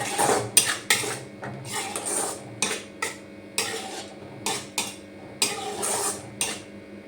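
A spoon stirs a pinch of salt into a mango jelly mixture, tapping and scraping a metal pot in a steady run of a dozen or so close, sharp clinks, with no voices.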